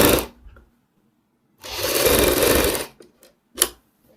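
Sewing machine stitching a Kullu patti double piping neck patch: a short whir at the start, then a steady burst of rapid stitching lasting over a second, followed by a few brief clicks and a quick final run.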